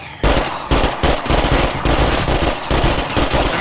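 The screamer gun in State of Decay 2 fires loud, close three-round bursts, one after another at a quick, steady rhythm.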